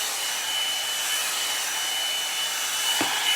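A rose gold blowout brush dries hair with a steady, close, broadband whoosh of blowing air that holds evenly for the whole stretch, with a faint high whine riding on top and no talking.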